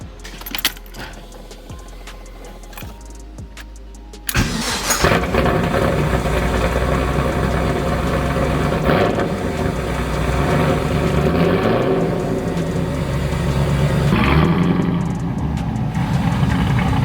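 Keys jangle before a 1994 BMW 325is E36 with a swapped LS1 V8 and T56 Magnum gearbox cranks and fires up, then settles into a loud, close, rumbling idle with revs rising and falling.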